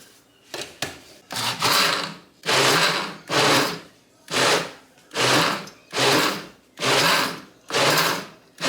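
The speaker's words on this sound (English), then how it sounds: "Here comes my battery powered blender." A battery-powered blender whirs in repeated short bursts, about eight pulses with brief pauses between, as it blends crema with medium fire-roasted salsa at a griddle, close and loud with no talking.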